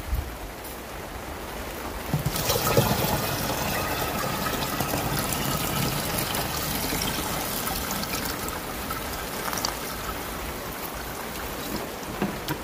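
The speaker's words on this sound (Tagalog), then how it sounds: "ilalagay natin sa ating knapsack sprayer" A liquid insecticide and fungicide mix for a Japanese cucumber crop pours steadily into a knapsack sprayer, a continuous gushing, splashing fill that starts after a couple of seconds and runs on loudly without speech.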